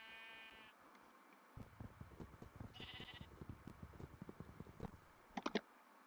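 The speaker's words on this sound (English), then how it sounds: "You guys know you have sheep in the basement?" Blocky video game sheep bleat in a modded Minecraft-style world, a faint cry at the start, heard over keyboard typing and mouse clicks with a quieter bleat in the middle.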